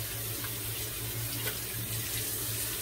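Tap water runs steadily and close by, splashing into a sink over a shaving soap, a continuous unbroken rush with no talking.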